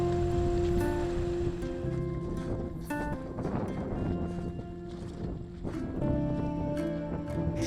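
Strong wind roars across open water with breaking whitecapped waves, a dense continuous rush that swells and eases, with faint tonal hums and clinks mixed underneath.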